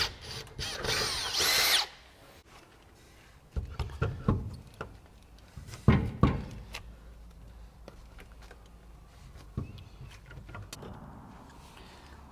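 A power drill bores through a metal wall to take a pot rivet during an industrial electrical installation, giving a loud burst of high whining at the start, then several shorter bites with clatter and knocks between.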